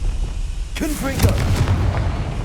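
A Confringo blasting spell bursts in Hogwarts Legacy, a loud explosive hit landing partway through over steady game ambience, with a brief voice-like tonal swoop mixed in.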